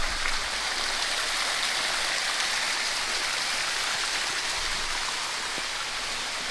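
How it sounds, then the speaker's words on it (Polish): Someone wades across a wide river on Kauai, Hawaii. A steady, dense rush of flowing water fills the whole stretch, loud and unbroken, with no voices. "Teraz przed nami nieco trudniejsza przeprawa przez rzekę."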